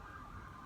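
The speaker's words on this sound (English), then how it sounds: "the ambulance going off in the background there" Ambulance siren in the city of Nicosia, Cyprus, a wailing tone sounding faint and distant over low street rumble, no voices.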